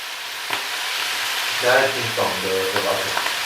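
Tomato omelette with green onion frying in a pan, a steady close sizzle with stirring and scraping, and a voice talking briefly over it.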